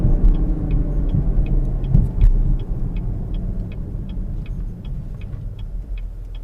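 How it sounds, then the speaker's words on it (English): A 2017 Chevrolet Camaro 2LT RS V6 engine rumbles low and steady from inside the cabin while driving, with a faint regular ticking, like a turn signal, running throughout. "I thought it sounded pretty great for a V6."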